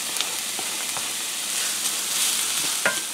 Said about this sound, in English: I'm just going to get them in here and fry them up